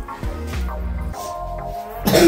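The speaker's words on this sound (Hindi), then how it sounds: "खांसी आ रहा है तुम लोग को" A few harsh coughs come in short bursts, close by, mixed with some tonal sounds and a louder burst at the end.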